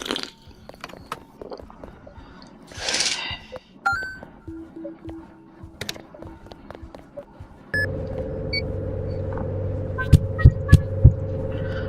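A heartbeat monitor in the Animal Hospital video game plays under a steady electronic hum, with assorted game clicks and tones early on and a few distinct low thumping beats near the end.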